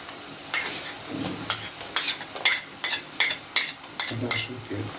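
A spoon scrapes and stirs browned onions with ginger garlic paste in a pan while chicken with orange cooks, a series of sharp clinks and scrapes over a soft sizzle, close and alone.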